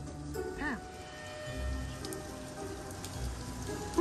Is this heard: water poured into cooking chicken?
no